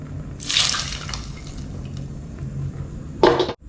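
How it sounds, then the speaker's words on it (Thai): A brief splashy pour of oil out of a wok, followed by a quiet stretch and a second short burst of liquid splashing near the end. "เทน้ำมันออกให้หมดเลยครับ"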